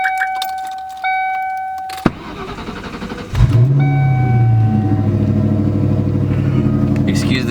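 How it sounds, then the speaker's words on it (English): Ford GT car engine cold-starting after sitting unused for a couple of days: a few clicks and a key sound, a sharp crank, then the engine catches and settles into a loud, steady rumbling idle close by. "I haven't turned it on in a couple of days, so a little cold start."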